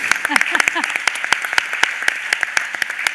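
Sparse, scattered audience clapping at a digital-wellbeing education panel, a few dozen sharp claps spread unevenly over a few seconds, fairly close, with a short bit of voice early on.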